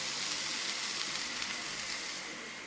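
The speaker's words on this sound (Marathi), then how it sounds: "तव्यावर तेल टाकायचं" Oil sizzling on a hot tava griddle while dhapate, a mixed-flour flatbread with a small hole in the centre, cook; a steady, moderately loud crackling hiss runs throughout with no voices.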